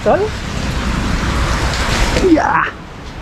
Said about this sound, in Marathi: जोरात पाऊस सुरू झालाय